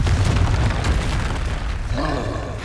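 A Confringo blasting spell blows up in Hogwarts Legacy as a heavy, booming explosion. A loud rumble runs throughout with a crackling burst near the start, then settles into a fainter tail with no talking.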